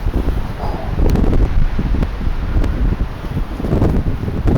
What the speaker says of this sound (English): But the wind today has been